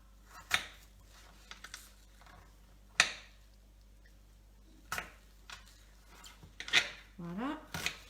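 Onion being cut with a kitchen knife for a chicken basquaise: a handful of sharp, separate chops and slices spaced a second or two apart, close and clear against near silence, with a brief voice sound near the end.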